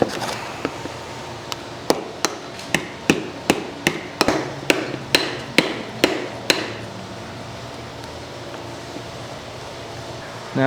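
Hammer blows on a used car bumper held over a body dolly, a run of about a dozen sharp metallic strikes at a steady, slightly quickening rhythm, close and loud, then trailing off into quiet.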